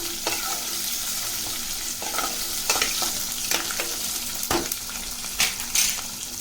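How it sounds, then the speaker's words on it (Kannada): Dry red chillies and onion frying together for vangi bath, a constant crackling sizzle with repeated spatula stirs and clinks against the pan, close and fairly loud, with no talking. "ಹಾಗೆ ಅದ್ರ ಜೊತೆಗೆ ಈರುಳ್ಳಿ ಕೂಡ ಸೇರಿಸ್ತೀನಿ. ಇದೆಲ್ಲ ಚೆನ್ನಾಗಿ ಫ್ರೈ ಮಾಡ್ಕೋಬೇಕು."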